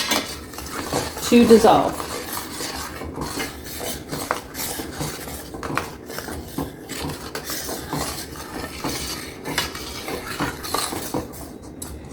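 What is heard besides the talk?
spoon stirring blueberry jam in a pot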